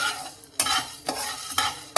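Fenugreek seeds frying in a pan on low flame, a soft sizzle broken by four sharp scraping stirs at a steady pace, close and alone.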